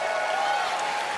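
Audience applause and cheering at Bethesda's E3 2019 press conference, a steady dense wash of clapping with yelling mixed in, loud and sustained throughout.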